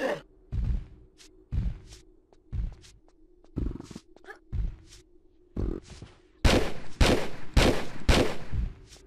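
Gunfire in Tomb Raider 3, a series of separate sharp shots spaced irregularly, growing louder and more frequent toward the end, with quiet gaps between.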